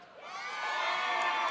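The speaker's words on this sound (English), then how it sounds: "Ladies and gentlemen, round of applause for Neil." A studio audience on a comedy drinking talk show cheers and whoops for a guest, the crowd noise swelling and holding steady at close range without any talk over it.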